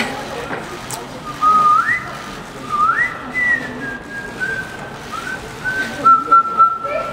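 A person whistles a bright melody from a song with sliding notes, close and clear, over faint background murmur.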